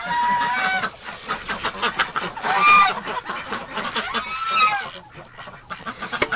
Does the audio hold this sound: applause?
no